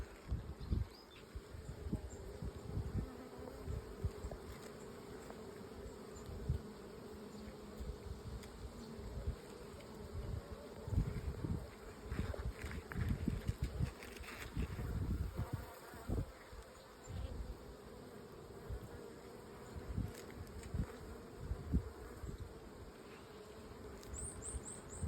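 Buckfast honey bees drone continuously around an open hive during a frame check, a soft, steady buzz with occasional closer passes and faint rustling, and no voices.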